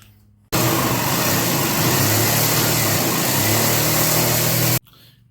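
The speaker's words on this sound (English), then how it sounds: "Had to take the sawzall to it. Cut all them off." A reciprocating saw cuts fastened hardware off the boards of a 2000 Palomino pop-up camper: one loud, continuous, harsh buzzing run of about four seconds that starts and stops abruptly, with no talk.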